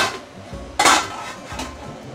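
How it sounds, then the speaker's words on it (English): A lid is closed onto a boiling cooking pot of sesame oil chicken: one sharp metallic clatter, followed by a fainter second clink as it settles, over a low simmering background. "Close the lid."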